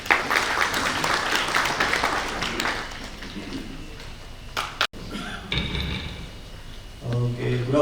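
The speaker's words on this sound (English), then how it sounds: "Please give him a huge round of applause." Audience applause in a technical session hall welcoming a geophysicist speaker, a dense wash of clapping for the first few seconds that thins and fades, followed by a brief thump and quieter room noise.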